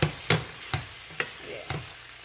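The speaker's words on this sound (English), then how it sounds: "Now just take time, stir it, but you don't want your ackee to mash up." Ackee and saltfish frying in a pan while being stirred, a low sizzle broken by five distinct scraping knocks of the spoon against the pan at roughly even intervals, close and without talk.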